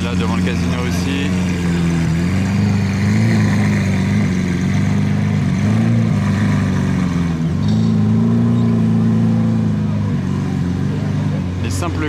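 Lamborghini Aventador S with exhaust valves open driving near the casino in Monaco, its deep engine drone rising and falling steadily under a continuous wash of background voices and crowd noise.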